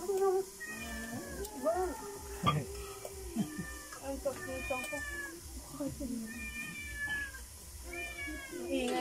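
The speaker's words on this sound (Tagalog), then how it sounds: "Ingay naman ang pusa." A hungry cat meows repeatedly and insistently in a home kitchen while food is being prepared, its calls close and loud, with people talking over and between the meows.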